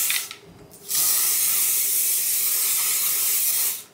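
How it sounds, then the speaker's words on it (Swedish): A spray bottle gives a short hiss, pauses, then lets out a long, steady, close spray lasting about three seconds before cutting off, used on a budget Dyson-style hair tool. "nu ska jag ta och spraya lite"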